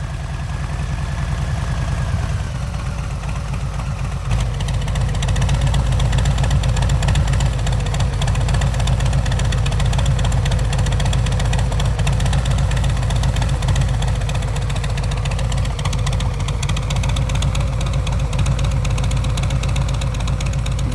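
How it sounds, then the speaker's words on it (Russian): A Harley-Davidson motorcycle engine idles close by, a loud, steady low rumble with an uneven throbbing pulse that holds for the full duration, with no voices over it. "запустить двигатель на холостых на 15 секунд"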